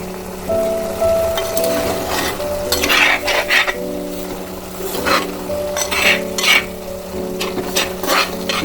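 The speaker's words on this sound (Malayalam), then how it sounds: "ഇപ്പോൾ കുറച്ച് എണ്ണയും കൂടി ഒന്ന് ഒഴിച്ച് ഇളക്കി കൊടുക്കാം" Boiled sardines frying in added oil are stirred in a pan, giving a steady loud sizzle with repeated scraping and clinking stir strokes throughout.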